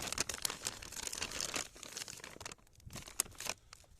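Close, quiet crinkling and crumpling of a small sugar packet from a Ukrainian military ration pack, continuous rustling with a few sharper crackles and a brief lull.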